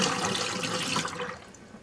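A container of diluted tannic acid tanning solution, used for hand-tanning salmon skin, is tipped out, and the liquid gushes in a continuous close splash that slowly thins toward the end. No one speaks.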